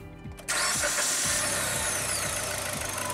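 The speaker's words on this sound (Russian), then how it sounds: "Запуск двигателя." A 2010 Kia Ceed 1.6-litre G4FC petrol engine cranks briefly and then catches, settling into a loud, steady running roar with a rhythmic underlying pulse, heard close up with no talking.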